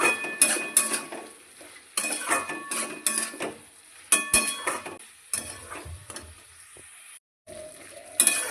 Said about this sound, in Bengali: কুমড়োগুলো ছেড়ে দেব ভালো করে নেড়ে ছেড়ে দেবো